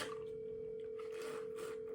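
A steady telephone dial tone hums on a single pitch for about two seconds while a call is being placed, alone with no talk over it.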